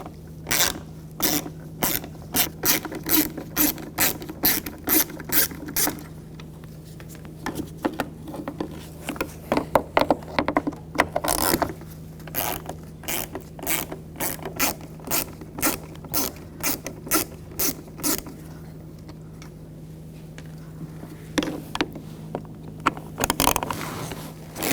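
A ratchet with a T20 socket clicks rapidly in repeated bursts while removing screws from a cover on a 2000-2006 BMW X5, close and crisp with short pauses between runs.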